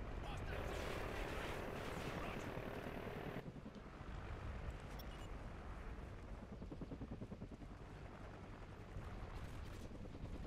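Helicopter rotor chop and gunfire in Call of Duty: Ghosts gameplay, dense loud bursts at first then a steady rotor throb, with players talking over it.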